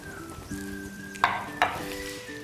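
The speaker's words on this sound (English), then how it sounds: "So just gonna stir to combine this." Raisins, chopped apricots and almonds being stirred into rice in a pan, with a soft scraping stir and two sharp spoon clinks against the pan over a steady low background hum.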